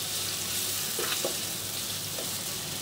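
Onions frying in a pan with cloves for a Khulna-style beef curry with chui jhal: steady loud sizzle throughout, with a few faint stirring clicks and no talking.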